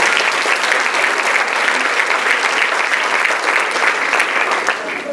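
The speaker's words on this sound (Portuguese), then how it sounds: "Vamos receber o irmão com palmas" Sustained applause from a church congregation welcoming a preacher, a dense, even wash of clapping that holds steady for about five seconds and fades slightly at the end.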